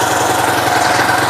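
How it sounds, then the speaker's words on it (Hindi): A motorcycle engine idles steadily after a new pickup coil is fitted, with a continuous close, loud rumble and a fine rhythmic pulsing, heard alone. "तो अब आप आवाज़ इसका सुन सकते हैं। देखिए बाइक अभी स्टार्ट है।"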